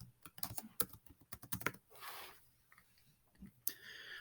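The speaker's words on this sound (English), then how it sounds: "And then type your first and last name." Typing on a computer keyboard, close and quiet, bursts of rapid key clicks with short pauses and a soft rustle between them.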